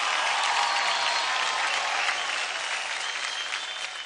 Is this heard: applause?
yes